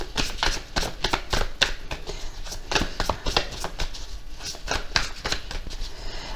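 Tarot cards are laid down and handled on a table, giving a quick run of sharp taps, flicks and slaps, close and fairly loud, with no talking.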